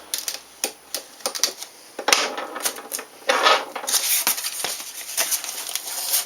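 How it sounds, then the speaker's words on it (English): Flush cutters snip off excess component leads on a WIZ BANG electronics kit during assembly, giving a string of sharp, close, crisp clicks at an irregular rhythm. "So now I'll cut this off. And I will cut this one off."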